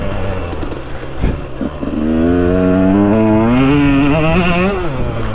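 A 2022 KTM 125XC dirt bike with an FMF Factory Fatty pipe and Power Core 2.1 silencer revs up close by, its buzzy engine note climbing steadily in pitch through a mid-range roll-on before easing off.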